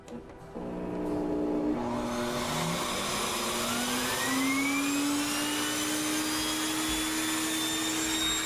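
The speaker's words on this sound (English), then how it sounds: "we turn on the machine, and when we do, you'll see it spin" Sirena water-filter vacuum cleaner starts up with its spinning turbo brush, a steady loud motor whine that rises in pitch over the first few seconds and then holds a continuous droning tone.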